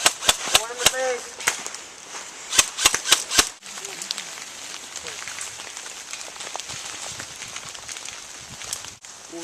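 Airsoft guns firing during an outdoor airsoft game, a rapid burst of sharp snapping shots up front, then scattered pops over rustling field noise, with players calling out nearby.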